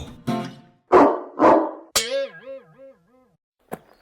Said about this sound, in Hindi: तभी अंदर से एक डरावना कुत्ता निकलकर उस पर भौंकने लगता है।